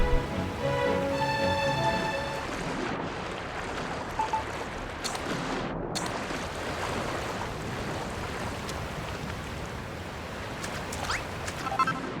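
Steady rushing water from a waterfall in the video game Dragon Quest Builders 2, a continuous broadband wash heard alone, with faint musical tones early on.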